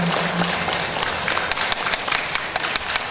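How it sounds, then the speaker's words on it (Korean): An audience at the opening of a national poetry recitation contest gives a round of applause, scattered hand claps of moderate loudness continuing throughout with no talk. "여러분 다시 한번 힘찬 박수 부탁드리겠습니다"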